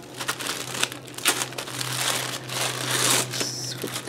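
Tissue paper wrapped around a scrapbook supply order crinkles and rustles steadily as the package is opened and unfolded by hand. The crinkling stays continuous and close, with a low hum underneath.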